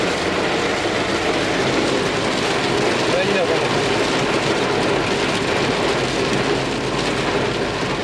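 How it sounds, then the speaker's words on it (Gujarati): Heavy monsoon rain pours down in a steady, dense roar near village farm fields, continuous and loud throughout, with a person speaking over it. "એટલો વરસાદ અંદરાધાર પડે"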